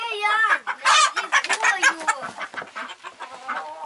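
Chickens and a rooster clucking at close range in a farm yard, with irregular overlapping clucks and squawks, loud and busy, while a person talks nearby.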